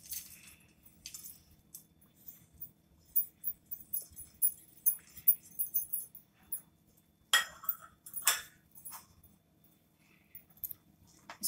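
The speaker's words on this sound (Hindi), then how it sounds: "अब मैं इसमें इस मिक्सचर को मिक्स करूंगी" Roughly crushed dates being mixed with a dry fruit mixture for laddus, soft scattered clicks and scrapes of a spoon against a bowl in uneven bursts, close and quiet, with pauses in between.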